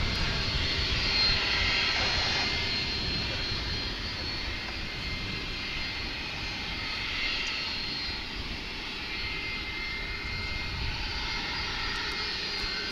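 Steady roar of airplane engines at Dallas/Fort Worth International Airport, a broad continuous rumble with a faint whine on top, holding level throughout without any talking.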